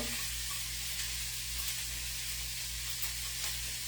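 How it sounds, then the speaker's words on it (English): A steady, soft sizzle of onion frying in a pan, continuous hiss with faint crackles, fairly quiet and alone without talk. "And sizzle."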